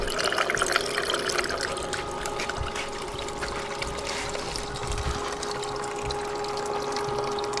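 Water flows steadily through a GOLDROP 5-gallon bucket gold trap, a continuous pumped rush with a faint hum and light sloshing, moderately loud and unbroken throughout.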